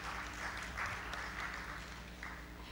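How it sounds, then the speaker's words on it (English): Applause from a seated audience at a banking conference session in Pakistan, a steady mid-level wash of clapping lasting the whole stretch, swelling slightly in places, with no voice over it. "Please give him a big round of applause."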